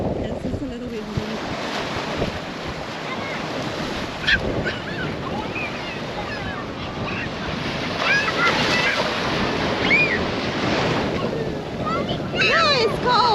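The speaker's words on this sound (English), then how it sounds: "The wind is blowing" Strong wind blowing at the seaside on an Aruba beach, a steady loud roar with buffeting against the microphone and surf beneath, while people talk faintly.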